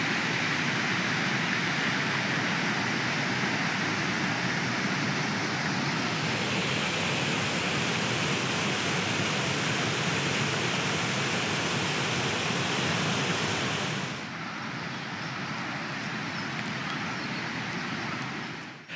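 High water rushes along a swollen stream in West Yorkshire, a loud, continuous broadband roar that holds steady and then drops to a slightly quieter level near the end.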